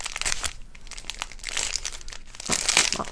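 Crinkly plastic packets of diamond art drills are handled and pulled at, giving loud close crackling and crumpling bursts that come and go, with a brief quieter moment midway, no talking.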